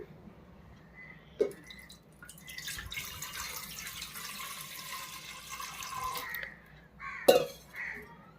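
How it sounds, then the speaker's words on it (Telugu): Water pours into a large metal idli steamer pot for a few seconds, a soft rushing fill between a couple of sharp clinks, quiet and close. "ఇందులో వాటర్ వేసుకుంటున్నాను"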